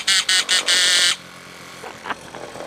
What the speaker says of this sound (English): That is the best horn I've ever heard.